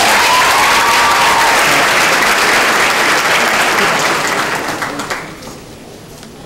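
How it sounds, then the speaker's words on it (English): An audience applauds at a campus news show event in a loud, sustained burst of dense clapping that fades out over the last second or so. "Let's give my man Jesse a big round of applause."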